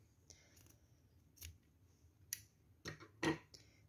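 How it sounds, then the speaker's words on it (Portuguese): Scissors cutting cotton twine crochet yarn, heard as a few quiet, crisp snips and clicks close by, scattered among faint handling noises. "Agora, eu vou cortar o fio."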